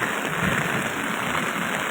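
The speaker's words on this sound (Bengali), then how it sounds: "প্রচণ্ড বৃষ্টি" Heavy rain near Sylhet pours down as a dense, unbroken hiss, loud and even across the whole stretch with no voices.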